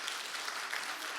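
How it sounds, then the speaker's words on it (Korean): Brief, steady clapping from a church congregation, a dense wash of applause with no single claps standing out. "박수 한번 쳐주세요."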